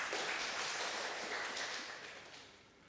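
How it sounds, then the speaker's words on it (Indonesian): A church congregation applauding together, a dense wash of clapping that starts full and gradually thins and fades over a few seconds, with no voices over it. "Ya, tepuk tangan buat diri Bapak Ibu semua."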